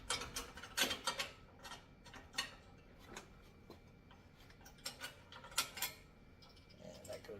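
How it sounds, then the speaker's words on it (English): Bolts with washers on a heavy-duty wall-mounted pull-up bar being tightened with a wrench or socket: steady, faint ratchet ticking in repeated bursts, close and alone. "And tighten these down with like a wrench or a socket."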